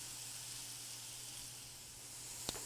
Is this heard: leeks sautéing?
yes